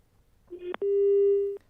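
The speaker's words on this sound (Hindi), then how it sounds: "चलिए, फोन कट" A telephone call on a live television debate line cuts off: a short tone and a click, then one long steady beep before the line goes quiet, clear and alone.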